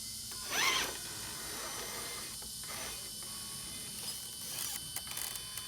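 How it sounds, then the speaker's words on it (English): A 3 Brothers RC G13 14.4 V brushless servo in an RC vehicle moves in a few brief, faint whirring sweeps, quiet and mechanical against a soft background hiss. "Notice how quiet the servo is."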